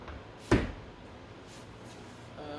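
A roof latch on a 2022 Ford Bronco releases with a single sharp, close clunk, followed by a quiet stretch of low background noise.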